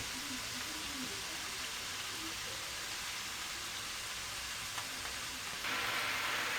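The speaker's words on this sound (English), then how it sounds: "So we're cooking this mince off." Minced meat sizzles in a frying pan, a quiet, continuous hiss with a few soft pops that grows slightly brighter and louder near the end.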